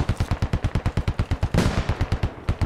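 Heavy .50 caliber machine gun fire in the Global Escalation mod, a rapid, steady burst of loud, evenly spaced shots hammering close by, with a brief blast swelling midway through the string.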